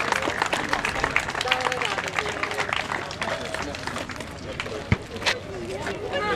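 A crowd at the opening ceremony of the Nikola Kalinić sports court in Subotica applauds in dense, lively clapping, with voices and chatter mixed in and a sharp knock partway through.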